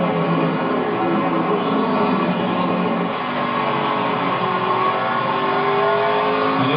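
NASCAR stock cars in the 2012 Federated Auto Parts 400 accelerate off a corner, their engines merging into a loud, continuous roar that holds steady throughout.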